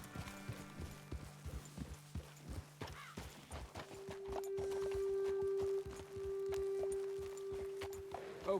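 Horse hooves clip-clop in a steady walking rhythm in Red Dead Redemption 2, clear at first and then continuing under a sustained tonal hum of game music.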